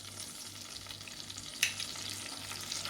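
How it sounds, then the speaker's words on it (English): Ginger garlic paste sizzles steadily in homemade butter for paneer butter masala, with a constant frying hiss and one brief louder crackle partway through. No one speaks. "Saute it for a minute"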